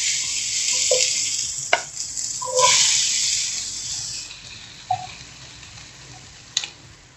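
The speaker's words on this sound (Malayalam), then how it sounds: "ഇത് നന്നായിട്ട് ഇളക്കി കൊടുക്കാം." Chopped parotta stirred into tomato masala in a hot pan for kothu parotta, a steady frying sizzle under scattered scrapes and clinks of the spoon, close and fairly quiet.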